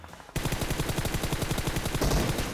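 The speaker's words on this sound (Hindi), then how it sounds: "तो मैंने जल्दी से ओम का शॉट ले लिया।" Rapid automatic gunfire in a mobile battle royale game, starting abruptly after a short quiet moment and continuing as a dense, steady burst of close, loud shots that swell slightly near the end.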